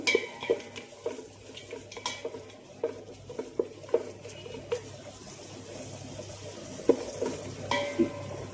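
Cashews frying in oil and ghee while being stirred, with a soft sizzle under repeated clinks and scrapes of a spoon against the pan, close and fairly quiet.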